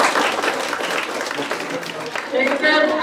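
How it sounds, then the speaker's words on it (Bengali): A seated audience at an academy gathering claps for Muin bhai, a dense continuous patter of many hands filling the room for the whole stretch, loud and close, with a voice speaking over part of it. "এই জন্য আমি মনে করি মহিন ভাই আমাদের জন্য স্পেশাল হাততালি"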